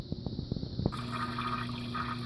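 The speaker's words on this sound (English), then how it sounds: "Could you please go flush the toilet so I can use the bathroom?" A household toilet flushing in a bathroom, a few soft knocks at the start, then a steady rush of water refilling the bowl and tank, close and fairly loud.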